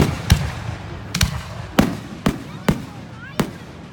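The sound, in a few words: fireworks at a school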